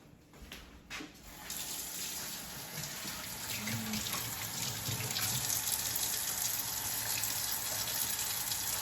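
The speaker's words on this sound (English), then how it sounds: "before we get started, we need to wash our hands." Tap water runs steadily into a sink while hands are washed before cooking pasta, a continuous close rushing hiss that grows slightly fuller after a short start.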